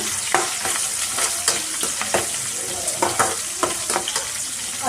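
Dried red chillies broken into hot oil in a pan are stirred, giving a steady bright sizzle broken by repeated close spoon scrapes and clinks against the metal.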